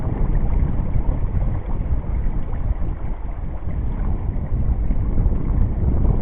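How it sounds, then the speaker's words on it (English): Wind gusts steadily across an open farm field beside a brook, roaring and buffeting the microphone with a continuous rough rush. "Wind."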